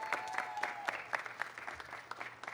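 Scattered, modest clapping for a high school baseball coaching staff at a county championship celebration, fairly quiet with uneven, sparse hand claps and a faint hum underneath.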